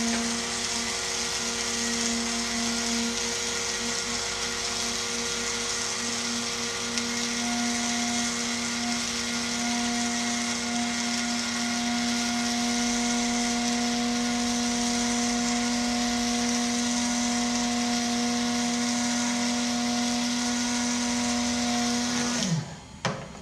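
An electric grinder grinds coffee beans for filter brewing in a steady, loud whirring drone that holds for about twenty seconds, then winds down and stops.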